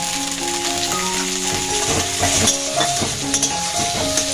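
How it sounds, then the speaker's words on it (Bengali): Chopped capsicum and chopped ginger frying in hot oil, a steady sizzle with spoon stirring and scraping throughout, alongside sustained tonal background sounds. "তেলে ভেজে নিতে হবে। আর হাফ ক্যাপসিকাম কুচোনো।"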